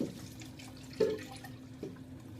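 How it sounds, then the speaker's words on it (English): Watery juice poured into a strainer, a faint trickle with a couple of soft drips and splashes standing out against a low, steady background hum. "So I'm going to pour the rest of this in the strainer."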